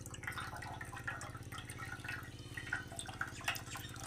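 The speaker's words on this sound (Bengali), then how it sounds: "এবার আমি ভালো করে জলটা ছেঁকে নেব ছানা থেকে" Water draining and dripping as fresh chhena cheese curds are strained, a soft continuous trickle with scattered splashes over a low steady hum, no voices.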